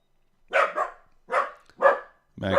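A dog named Maxie barks indoors, four loud, close barks in an uneven rhythm, with a fifth starting as the sound cuts off, and no talk over them.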